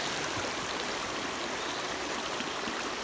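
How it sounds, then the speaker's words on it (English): A creek in the Eastern Sierra rushes steadily, a dense, continuous wash of flowing water that sounds close and loud with no pauses, and no other sounds break through. "So there's another creek over here."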